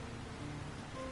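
Steady rain falls over a video game town as an even, dense hiss, with a faint low hum and tone beneath.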